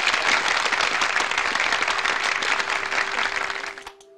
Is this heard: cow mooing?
no